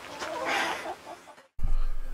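Hens cluck softly and intermittently inside a hen house for about a second and a half, then a sudden cut leads into a louder low rumble.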